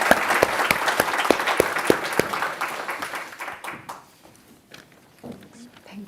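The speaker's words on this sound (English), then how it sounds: "Please join me in giving them a big round of applause." Audience applause for a panel at an AI competition event, a dense burst of clapping that fades out after about four seconds, leaving faint room noise.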